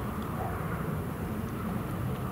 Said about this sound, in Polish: O, proszę, startuje samolot z Balic.